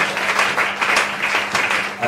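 A church congregation at a Sunday service applauds, with dense, continuous clapping at a steady volume and a few voices mixed in.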